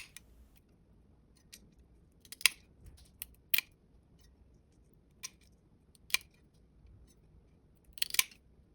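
Ceramic mosaic tile is trimmed bit by bit into a curved shape, with sharp isolated snips and crunches at irregular intervals against near silence.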